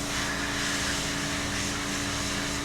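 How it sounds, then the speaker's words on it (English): Air compressor running for sandblasting, a steady droning hum with a broad hiss laid over it, continuous and fairly close throughout. "Let me turn back on the compressor."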